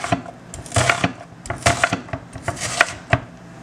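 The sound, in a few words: chopping an onion with a knife on a board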